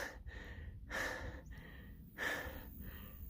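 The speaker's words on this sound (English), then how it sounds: "I'm taking a lot of breaks, not sitting down, but just trying to calm my breathing." Heavy, labored breaths from a hiker resting during a hard climb to a high mountain pass on the Colorado Trail, three drawn-out breaths close to the microphone, quiet, with no talking.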